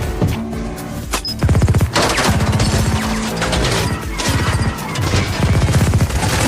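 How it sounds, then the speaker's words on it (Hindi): Heavy machine guns fire a dense barrage in a dubbed Hollywood action movie, with rapid rattling bursts and loud impacts crashing in close succession and no talk over it. "घनी गोलियों की बौछार शुरू हो जाती है।"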